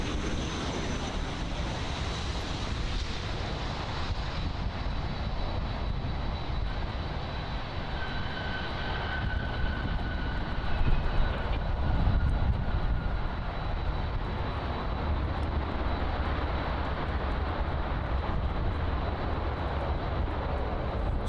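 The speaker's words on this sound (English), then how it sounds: "here is an American Airlines 737-800 arriving in from Cancun" An American Airlines Boeing 737-800 jet arrives from Cancun at Miami International Airport, a broad continuous engine roar with a faint whine, swelling slightly midway over steady wind noise.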